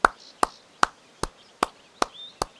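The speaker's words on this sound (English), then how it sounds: "Leopard clapped his hands in time to the music." Hands clapping in time to music in a children's story, seven sharp, evenly spaced claps in a steady beat, close and crisp.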